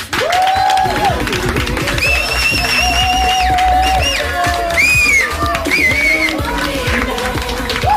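A studio audience on The Xtra Factor cheers and applauds for Laura, loud and continuous crowd noise with whoops and whistles filling the room.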